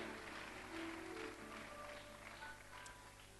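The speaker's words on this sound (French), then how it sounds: "acclamez pour vous-même" Faint, steady applause from a church congregation: a dense, even patter of many hands clapping at a distance, with a few voices barely audible underneath.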